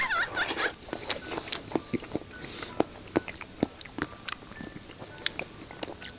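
Orange boba pearls chewed close to the microphone, a series of soft squishy, sticky mouth clicks and smacks in an irregular rhythm, with no talking.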